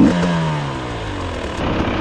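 Motorcycle engine revving and running steadily at close range on a mountain road, a continuous mid-pitched drone with a falling pitch after an initial rev, loud throughout with no talk.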